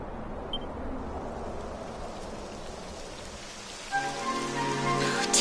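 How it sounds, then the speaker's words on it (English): Steady rain in Dragon Quest XI patters across a surface in a continuous hiss, with a brighter tonal sound entering near the end. "It would have to go and start raining, wouldn't it?"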